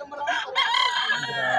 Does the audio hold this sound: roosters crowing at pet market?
yes